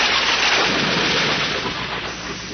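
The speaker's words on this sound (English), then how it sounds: "With an ear-splitting crash, a jagged fork of lightning crackled out of the clouds and hit the tip of the mast." A loud, sustained thunder crash from a lightning strike used as an audiobook sound effect, a dense broad roar that holds steady and slowly fades over a few seconds with no voices.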